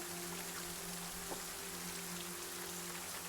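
Steady pouring rain hisses loudly and continuously across the whole stretch, a dense wash of drops with a faint low hum beneath and no voices.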